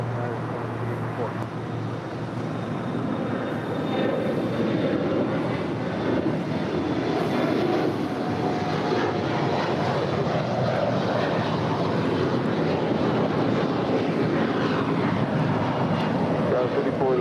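An airliner takes off from runway 25 right at LAX, its jet engines a steady, broad roar lasting throughout, heard from a moderate distance with wind buffeting the microphone and faint talk underneath.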